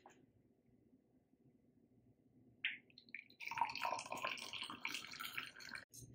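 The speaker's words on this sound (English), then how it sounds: "Boil some hot water and let's pour here" Hot water for globe amaranth flower tea pours into a cup, starting with a short splash and then a steady, close gurgling stream after a quiet opening.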